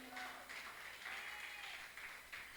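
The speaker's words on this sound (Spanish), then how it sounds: "Dale un aplauso fuerte al Rey de Gloria." A church congregation applauds in a soft, continuous patter with faint pulses of louder clapping, heard at some distance and low in level.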